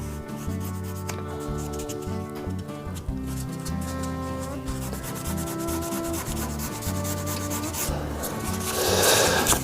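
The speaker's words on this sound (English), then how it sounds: "Get my little piece of rubber in there, just to give that edge a bit of a sand, a bit of a touch up." A piece of rubber rubs against the edge of a cast resin shaving brush handle, giving a continuous close scratchy sanding sound with a gently pulsing back-and-forth rhythm that grows slightly louder near the end.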